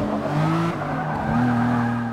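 A car drifting in Forza Motorsport 6 during a city league race, the engine droning steadily while tires squeal in sustained tonal whines that shift in pitch, close and loud.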